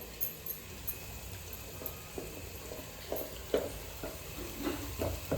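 Onion and tomato sizzle quietly in a frying pan, a soft steady crackle with occasional stirring scrapes and clinks near the end, no voices.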